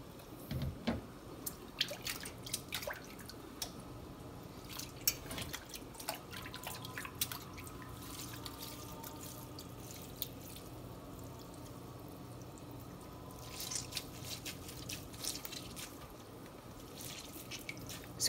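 Quiet trickling and dripping water squeezed from vermicelli noodles, with occasional soft splashes and a short louder burst of drips near the end, close and faint.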